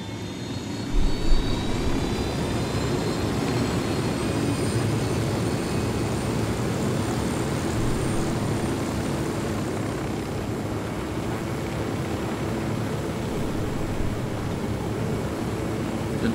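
Steady, loud drone of a helicopter in the video game Ghost Recon Wildlands, a continuous engine and rotor rumble holding evenly for about sixteen seconds, close and unbroken.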